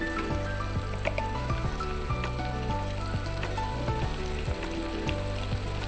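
Ground coriander and cumin powders fry in hot oil, giving a dense, continuous close-up sizzle with faint crackles throughout and no speech.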